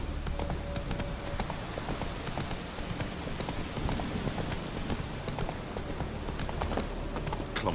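Roach, a horse in The Witcher 3, trots in steady clip-clop hoofbeats, close and moderately loud over a soft rain-like background hiss, with no talking.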